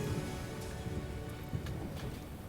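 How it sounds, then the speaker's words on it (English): Steady rain falls in the video game Trails of Cold Steel IV, a dense, even hiss of downpour with no voices over it. "it started to rain."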